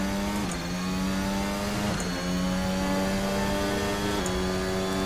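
A 2022 Formula 1 car engine in an Assetto Corsa racing game mod screams at high revs, dipping briefly at three quick gear shifts before climbing again, loud and continuous with no talk.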